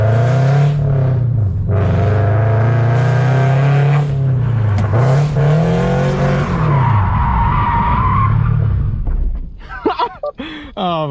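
Toyota GR86 sliding on wet roads at night, its engine droning loud and close with rising and falling revs throughout and tire noise over it, then easing off near the end.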